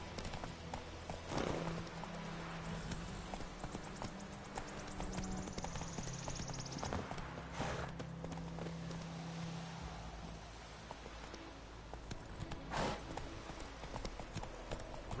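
Hoofbeats from Roach, Geralt's horse in The Witcher 3, clip-clop steadily at a ride through most of the stretch, with game music and ambience underneath and occasional dialogue voices.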